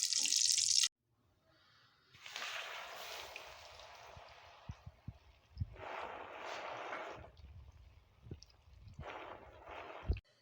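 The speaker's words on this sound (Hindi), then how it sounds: "ये जी अब इसमें मछली फ्राई करेंगे।" Fish frying in hot mustard oil in a kadai, heard as loud hissing sizzle in several bursts that swell and fade, with quiet gaps and soft low knocks between them; no one speaks.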